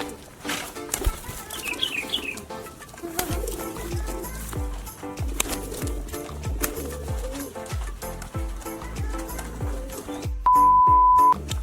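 A high-flyer trainer pigeon coos with soft, rhythmic low calls, close by, mixed with brief wing flutters and a short ringing tone near the end.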